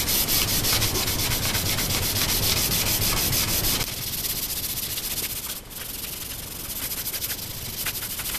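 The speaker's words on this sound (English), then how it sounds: "We've got this sanded to 600 grit now." Close, steady rubbing hiss of a guitar body being hand-sanded smooth at 600 grit, loud and continuous at first, then softening slightly with a brief pause before the strokes carry on.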